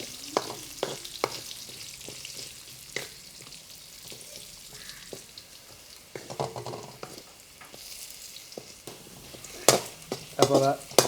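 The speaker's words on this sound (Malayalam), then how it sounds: "ഉരുളൻകിഴങ്ങ് ഇട്ട് കൊടുക്കാം. ഒരു 2 മിനിറ്റ് നമുക്ക് എണ്ണയിലിട്ടൊന്ന് മൂപ്പിച്ചെടുക്കാം." Potato pieces frying in hot oil in a pan for a Kerala-style soya chunks curry, a soft steady sizzle broken by sharp clinks and stirring scrapes of a utensil against the pan.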